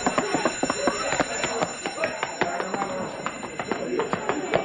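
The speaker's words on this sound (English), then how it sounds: "Hey, he stepped on the alarm." An alarm bell rings continuously with a steady high-pitched metallic tone, while hurried voices and commotion sound underneath.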